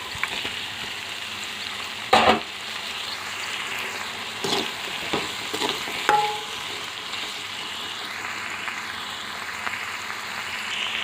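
Tomatoes frying and sizzling in a pan for an Indian field bean (bobbara kaya) curry, a steady close hiss throughout with a few sharp stirring clatters and pops over it.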